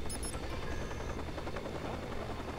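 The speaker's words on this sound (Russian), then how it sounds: "Вертушка." A helicopter in Watch Dogs hovers nearby with a dense, continuous rotor thrum and engine roar, steady and loud throughout.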